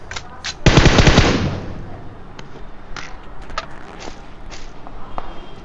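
A loud burst of rapid automatic gunfire up close in PUBG Mobile's Livik map, followed by scattered single shots and clicks with faint footsteps in the background.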